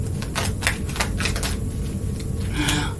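Tarot cards being shuffled by hand, a steady run of crisp riffling and tapping bursts, close and loud, with no talk over it.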